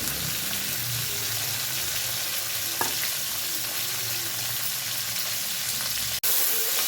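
Cauliflower pieces frying lightly in hot oil in a pan, a dense, steady sizzle that runs close and loud throughout, with a brief stir or knock near the end and no talk.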